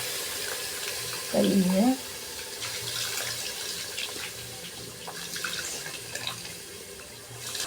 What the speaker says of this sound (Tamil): இதில் தேவையான அளவுக்கு நம்ம தண்ணி ஊற்றிக்கலாம்.